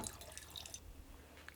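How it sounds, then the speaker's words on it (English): Filtered water poured into a crock pot holding bones for bone broth, a faint, steady splashing and dripping trickle close by, with no talking. "just adding 4 cups of water at a time"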